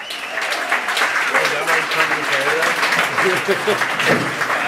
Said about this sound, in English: How about a round of applause for Luke Cunningham, everybody?